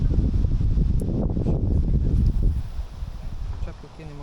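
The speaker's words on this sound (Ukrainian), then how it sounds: "Вітер просто сильний." Strong wind buffeting the microphone in heavy low rumbling gusts at a riverbank while fishing, easing off toward the end, with a voice heard briefly near the close.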